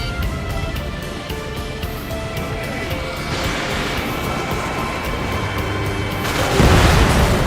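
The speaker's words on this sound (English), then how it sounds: "Missile. Missile." Missile explosions from the Ace Combat 7 flight combat game, with heavy broadband booms and rumbling blasts over a continuous music and jet backdrop that swell louder near the end.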